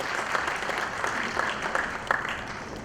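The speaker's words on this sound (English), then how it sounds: "Huge round of applause." Audience at a talk event in Pune gives sustained applause, a dense continuous patter with a few sharper individual claps rising above it.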